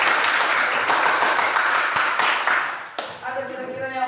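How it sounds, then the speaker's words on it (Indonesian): Classroom applause from junior high school students in a religion lesson, a dense wash of many hands clapping for about three seconds, then fading as a voice begins speaking over the last second. "Oh, tepuk tangan untuk mereka."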